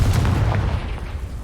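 A Confringo blasting spell bursts in Hogwarts Legacy, a short heavy boom with a thumping low rumble that fades away over about a second, loud and close.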